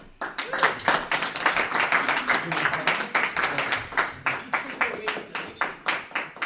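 A crowd claps continuously at a Bridge of Honor ceremony for Ship 317, dense and fairly loud, with rhythmic bursts of individual hands standing out across the steady roar of applause.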